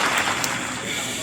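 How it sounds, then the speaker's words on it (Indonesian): Applause fills a seminar on becoming a young entrepreneur during the Covid-19 pandemic: a steady, fairly loud wash of clapping that holds evenly for about a second with no clear breaks. "Masuk, tepuk tangan dulu."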